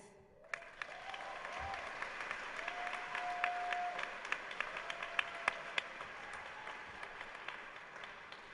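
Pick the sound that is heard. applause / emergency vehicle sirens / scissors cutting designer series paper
applause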